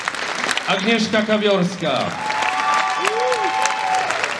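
A film premiere audience claps in a continuous crowd ovation while a voice announces over it, the applause carrying on steadily once he stops.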